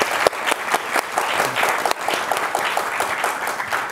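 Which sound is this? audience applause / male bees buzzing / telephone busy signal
audience applause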